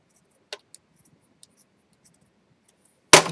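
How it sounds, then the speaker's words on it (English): Scissors snip around paper embellishments, giving a handful of small, sparse, faint clicks in a quiet room, then a louder burst of handling noise at the end. "take my scissors and then just cut around them as close as I can to the edge"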